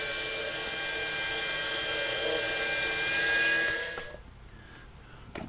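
A power drill whirs steadily while winding Dacron line onto an ice-fishing tip-up spool, a close high-pitched motor drone that holds for several seconds and then cuts off into quiet.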